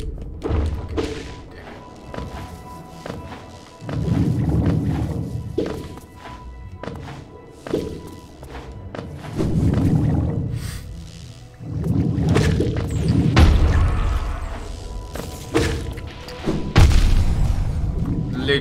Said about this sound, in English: Literally dived into that explosion.